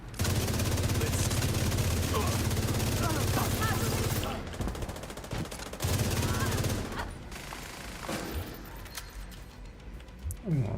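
Sustained rapid gunfire in The Division during casual PvE farming, dense automatic bursts for about four seconds, then a brief lull and another volley, trailing into scattered shots under ongoing game noise.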